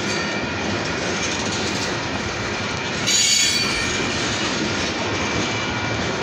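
A long freight train of open boxcars and covered hoppers rolls steadily past at close range, loud and continuous, with squealing wheels and rhythmic clickety-clack over the rails and no voices.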